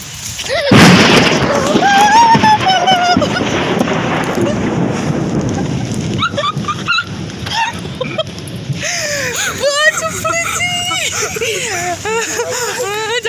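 Loud rumbling bursts and cracks of thunder roll through steady rain, with voices talking over the storm.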